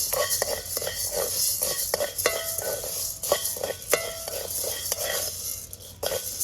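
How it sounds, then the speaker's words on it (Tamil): Lentils dry roast in a pan for millet pongal in a Sri Lankan village kitchen, with rhythmic scraping and clattering spoon strokes against the metal over a soft, dry hiss. "பயிறு வறுபட்டு வந்துடுது"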